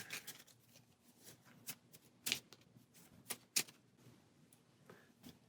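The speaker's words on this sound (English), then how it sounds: "And shuffle those together." Board game cards being shuffled together by hand, a starting deck mixed with extra character cards; soft riffling rustles with a few sharper snaps, quiet and close, no talking.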